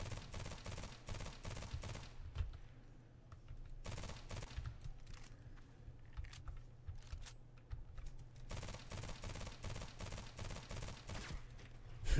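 Rapid bursts of automatic gunfire in the online shooter game Contract Wars, several clustered strings of shots separated by quieter gaps, faint and crackly throughout.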